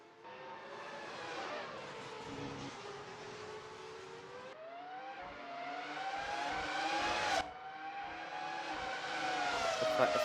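Race car engines in a Formula-style racing video game at the Sepang circuit, several high-pitched engines whining and rising in pitch through gear changes, loud and continuous with an abrupt shift partway through.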